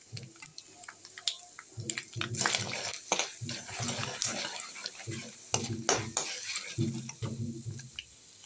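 Dry red chillies and chilli powder stirred in a hot pan for a dry coconut podi, a steady run of close scraping and clinking strokes over a light sizzle.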